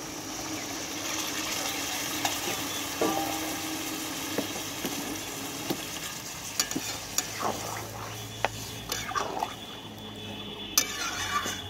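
Hot water is poured into a cooking pot over a steady sizzle, with clinks and stirring scrapes of utensils throughout; no one speaks.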